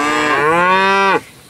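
A cow lets out a single loud, drawn-out moo lasting about a second, up close with no talk, while cattle are herded into a working pen before being sent through to another paddock.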